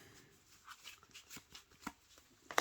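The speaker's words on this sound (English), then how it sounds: "we'll shuffle these over here real quick just off the camera." Trading cards for a Kashtira deck are shuffled by hand in a steady run of soft riffling and sliding strokes, faint and close, with a sharper flick at the end.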